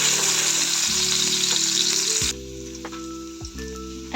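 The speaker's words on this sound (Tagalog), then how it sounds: "Ngayon po ay sisimula na natin igisa itong ating bawang" Garlic sautés in hot cooking oil, a loud close sizzle under a steady hum of the stove or hood that drops away partway through, leaving a lighter crackle.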